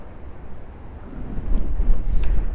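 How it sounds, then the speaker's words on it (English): Strong wind buffets the microphone on a river bridge in winter, a low rumbling roar that swells and gusts harder toward the end, close and loud, with no voices. "Way too much wind now. It's blowing hard enough, it's actually pushing me into the railing."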